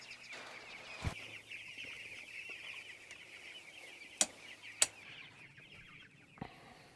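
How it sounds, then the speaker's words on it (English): Pastured chickens keep up a steady, quiet clucking chorus as they are moved to fresh pasture, broken by a few sharp clicks and knocks. "I do like to see that bird drinking out of those bowls"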